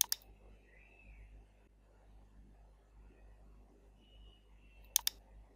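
Computer mouse clicks come in two quick pairs, one at the very start and another near the end, crisp and close, with near-silence and faint room noise in between.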